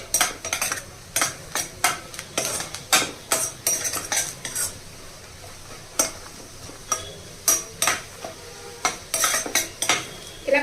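Dried red chillies and cumin seeds frying in oil in a pan for a curry, with repeated sharp clinks of a spoon stirring against the vessel over a faint, steady sizzle, close and without voices.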